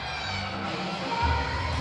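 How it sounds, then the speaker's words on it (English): Wrestling arena crowd at an indie show gives a moderate, diffuse roar of cheering, swelling slightly toward the end, with faint voices mixed in. "the crowd is cheering for him"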